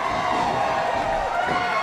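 A wrestling show crowd roars and cheers steadily, a dense, loud wall of voices that holds without a break.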